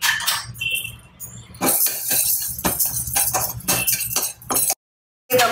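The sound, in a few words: roasting moong dal in a pan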